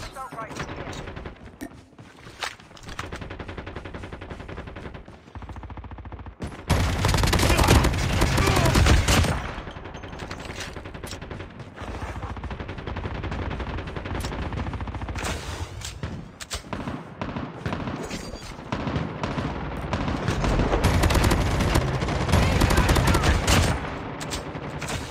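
AK rifle fire in a Call of Duty Mobile match on the Alcatraz map, with repeated bursts and rattling volleys that swell into a heavy barrage partway through and continue over about twenty-five seconds.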